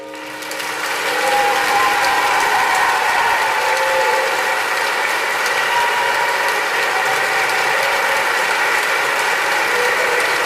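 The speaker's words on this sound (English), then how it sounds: "the hall erupts in applause" A theatre hall audience bursts into sustained applause after a Yuletide stage performance, a dense continuous wash of clapping that swells in over the first second and holds steady and loud to the end.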